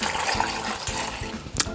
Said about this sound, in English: Okay, we're going to add water to it.